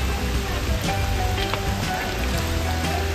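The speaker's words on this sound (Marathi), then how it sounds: "मस्त पाऊस तर सुरू आहे" Steady rain patters on the ground along a forest trek path to a waterfall near Bhandardara, a constant broadband hiss with scattered closer drops and a low rumble beneath, no voices.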